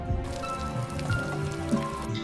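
Rainwater drips and patters into plastic Tupperware containers set out under a holed container roof at sea, with scattered irregular drops over a soft steady wash of rain and no voices.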